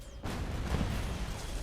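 Stormgate video game sniper gunfire: a sudden dense burst of booming, rumbling fire that starts abruptly and continues as a loud wash of explosive noise.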